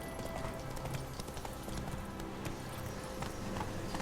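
Galloping hooves of the horse Roach in The Witcher 3 beat a quick, steady clip-clop rhythm on a mountain path, fairly faint and continuous.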